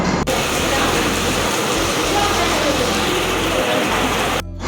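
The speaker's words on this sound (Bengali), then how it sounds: "একদম ঝমঝম করে বৃষ্টি শুরু হয়ে গেছে" Heavy monsoon rain pours in a steady, loud, dense hiss and drumming that runs unbroken for the whole stretch, with no voices heard.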